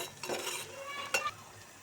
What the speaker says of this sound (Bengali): এবার আমি কাঁচামরিচ দিয়ে দেবো। কাঁচামরিচ, এগুলোকে কিছুক্ষণ কষিয়ে নিলাম।